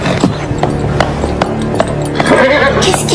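A horse whinnies while hooves clip-clop over dense background sound, close and continuous for a few seconds in a riding arena scene from an animated series.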